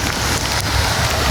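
Steady rain hits a surface close to the microphone, a dense, loud, even hiss with some wind noise and no pauses.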